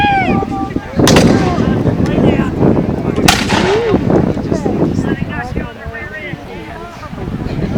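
Musket volleys crack out in a battle film scene as Seminole warriors fire on soldiers from a hammock, two sharp loud blasts amid a dense wash of battlefield noise, wind and shouting.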